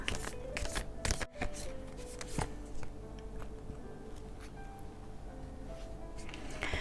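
Oracle cards are shuffled by hand for a reading, giving close, rapid riffling and slapping flurries with a brief pause partway through, then softer rustling as the cards settle.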